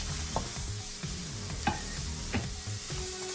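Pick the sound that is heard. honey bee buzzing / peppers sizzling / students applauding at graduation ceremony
peppers sizzling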